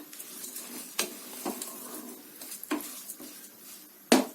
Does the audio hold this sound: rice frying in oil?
yes